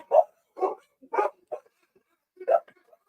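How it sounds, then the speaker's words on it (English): A dog barks in a short series of about five sharp woofs, fairly close and loud, with brief pauses between them. "I think I'm in a dog pound right now."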